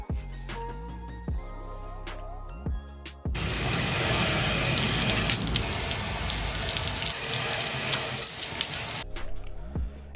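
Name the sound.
water rinsing and scrubbing a glass enclosure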